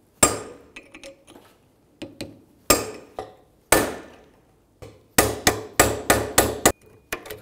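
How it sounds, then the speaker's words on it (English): A hammer strikes a metal punch to crack the bearing race during a front wheel bearing replacement on a 2003-2008 Honda Pilot. About a dozen sharp, ringing metallic blows come close up, spaced irregularly at first and then in a quick steady run near the end. "I'm going to use a punch and a hammer"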